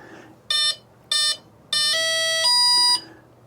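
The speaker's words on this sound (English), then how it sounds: "It's going to make a beep, and I push it all the way down." An RC model's electronic speed controller sounds calibration beeps at full throttle: two short, clear electronic beeps, then two longer sustained tones stepping in pitch, close and alone.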